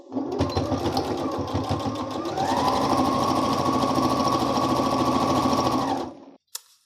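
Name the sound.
sewing machine top stitching a fabric face mask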